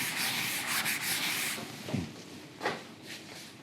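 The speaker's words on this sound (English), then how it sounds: "You have to rub it with a little wet cloth." A little wet cloth rubs across a board in a classroom, giving a close, steady swishing scrub that pauses, then returns as a few short strokes, with no talking.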